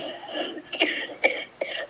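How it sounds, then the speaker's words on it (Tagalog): Three short, hoarse coughs close by from an elderly woman who is ill, spaced about half a second apart, over a low murmur. "Parang naglala man yung ubo mo."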